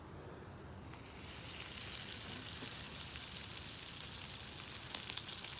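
A rolled chicken quesadilla searing seam-side down in a pan, a soft, even crackling sizzle that rises after the first second and then holds steady.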